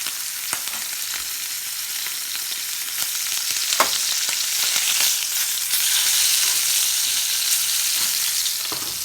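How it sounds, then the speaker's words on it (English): Pork tenderloin sears in a hot pan with a steady, loud sizzle and fry crackle, close up and continuous, with small pops scattered throughout and no talking. "We're going to sear it for another 10 seconds or so."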